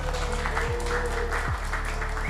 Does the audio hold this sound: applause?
yes